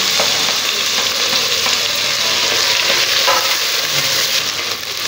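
Chopped tomatoes fry and sizzle inside a Geek Robo Cook robotic cooker, a steady loud hiss with faint stirring scrapes throughout, no voices.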